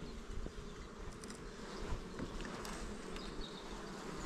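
Honey bees buzz as a dense, continuous drone around a hive frame being lifted from a colony, close and steady with no talking.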